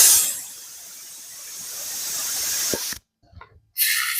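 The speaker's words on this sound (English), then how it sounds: "you got an aerosol, fill you up a little bit with your air hose" A compressed-air hose hisses steadily into an aerosol spray can in a workshop during a rusty fuel tank repair, a long close spray that stops abruptly, then a short second burst after a brief silence.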